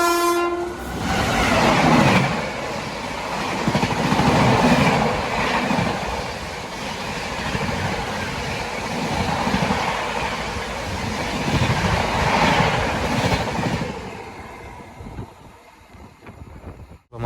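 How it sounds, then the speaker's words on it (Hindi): The New Delhi–Amritsar Shatabdi pulls out of a station, a loud, close rush of passing coaches with rhythmic wheel clatter and roar that fades out near the end. "न्यू दिल्ली अमृतसर शताब्दी का डिपार्चर देखिए आप"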